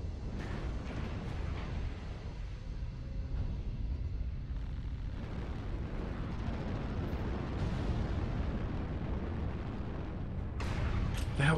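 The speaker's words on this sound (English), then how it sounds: "the hell are those missiles coming from?" Incoming missile strikes explode around a mech in a MechWarrior-style combat game, rumbling low booms and blasts that roll on continuously and swell toward the end, with voices talking over the barrage.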